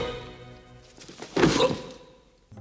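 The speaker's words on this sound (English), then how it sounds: "the Count just suddenly stops and throws a dagger right into Inigo's stomach" Film sound effect of a dagger thrown into a man's stomach during a sword duel in The Princess Bride: one dull, heavy thunk lands midway over a quiet musical bed, then fades.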